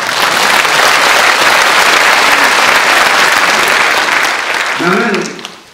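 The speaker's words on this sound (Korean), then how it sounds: "그 사실을 놓고 여러분이 큰 박수 한번 부탁합니다." A large audience at an outdoor rally in Gangneung breaks into loud, sustained applause that holds steady for several seconds, then fades as a voice begins speaking near the end.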